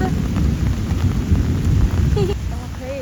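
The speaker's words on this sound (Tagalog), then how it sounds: "Non-stop yung ulan." Heavy, steady rain pours down with deep thunder rumbling throughout, recorded outdoors at a zoo in Singapore, with faint voices and a brief bird call near the end.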